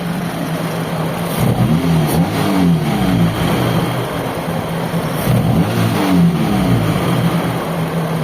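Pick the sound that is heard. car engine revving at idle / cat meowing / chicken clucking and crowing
car engine revving at idle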